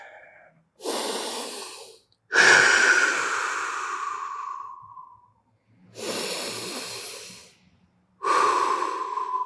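Slow, deep breathing while holding an upper-body stretch during a jiujitsu mobility routine. Four long, loud, close airy breaths, inhales and exhales, separated by short silences.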